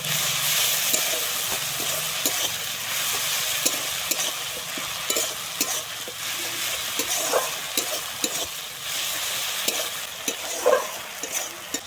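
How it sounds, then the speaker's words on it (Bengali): Ground tomato with ginger and garlic fries in a pan with a steady, hissing sizzle, broken by repeated rhythmic spatula scrapes and taps, close and loud with no talking. "আমি টমেটোটা দিয়ে আবারও ভালোভাবে ভেজে নেবো টমেটোটাকে"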